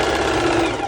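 A sewing machine top stitching a folded seam on a swim skort, a fast steady mechanical whir that runs unbroken and fairly loud through the whole second.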